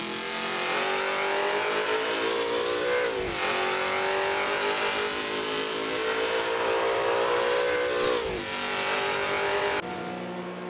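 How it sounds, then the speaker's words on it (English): Porsche race car at a three-hour Le Mans exhibition, a loud, sustained high-revving engine roar with two sharp gear-change dips, close and dominant with no voices. "we nearly get absolutely decimated by one of the Porsches, because that is unbelievably loud inside"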